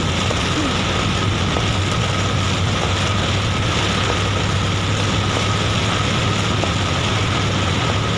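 A dense, constant roar of heavy rain drumming on a truck with a trailer, parked at the roadside on Route 331 in Thailand, with a low engine hum underneath and no voices.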